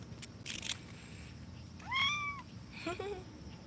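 A young garden kitten gives a faint, high, rising-falling meow, then a shorter second mew, close by against a soft outdoor background.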